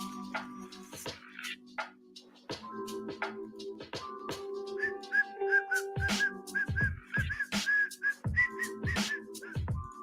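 A person whistles a wandering tune over soft background music, with scattered clicks and taps punctuating the melody.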